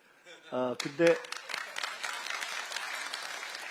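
Audience applause at a Korean government briefing in Iksan, breaking out after a short spoken phrase and continuing as a dense, steady patter of many hands through the rest.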